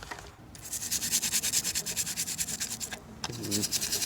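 Brisk, rhythmic scrubbing of grimy bicycle derailleur parts, close and steady with regular back-and-forth strokes for several seconds, briefly pausing before resuming.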